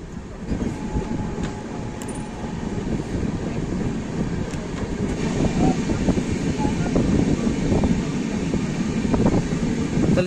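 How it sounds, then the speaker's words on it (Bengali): The 13151 Jammu Tawi Express rolls into Paharpur station in Bihar on its Kolkata to Gaya run, heard from on board as a continuous low, loud rumble of wheels and carriages with faint clicks and a brief squeal. "আমাদের ট্রেন এসে পৌঁছলো বিহারের পাহাড়পুর স্টেশনে"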